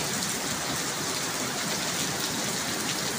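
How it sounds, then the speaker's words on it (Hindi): Heavy rain pours steadily in a Pakistani city street in Haripur, a dense, unbroken hiss that stays loud and even throughout with no voices. "तकड़ी बारिश ये रुकना भी नहीं है ना"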